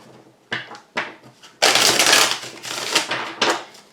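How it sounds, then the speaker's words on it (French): Tarot cards being shuffled up close, with a few sharp separate flicks that give way to a long, loud, dense riffling rush with crisp pulses through it. "mélanges tellement mieux les cartes d'habitude"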